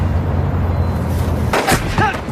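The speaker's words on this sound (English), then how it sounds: "a group of gangsters suddenly appears and mercilessly opens fire on the car" Gunfire from gangsters raking a car in a crime film, a loud sustained burst of shots and impacts followed by a couple of sharper bangs near the end.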